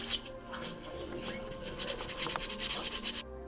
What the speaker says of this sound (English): just grab some sandpaper and just start sanding it down